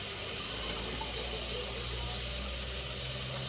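Hot tap water runs hard into a sink while a raw whole chicken is rinsed before smoking, a loud continuous hiss and splash with no break.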